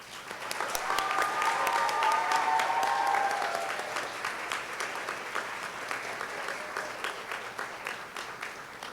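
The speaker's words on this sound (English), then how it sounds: "Will all of those appointed please stand for a big round of applause?" A big round of applause from the audience at the 2016 American Legion Auxiliary Rhododendron Girls State final assembly as appointees stand, steady dense clapping across a large hall that swells, then slowly thins, with a brief tone near the start.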